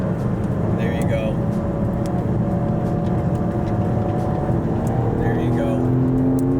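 BMW M4 GT4 race car engine droning steadily on a track, loud and continuous with shifting pitch as the throttle is worked, while an instructor's voice speaks over it.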